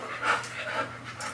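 Young puppy, a Sherpador, panting close up in quick, soft rhythmic breaths, alone and fairly quiet.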